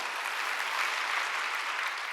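A congregation claps together at a Wednesday church service, a dense unbroken patter of many hands that holds steady and loud throughout.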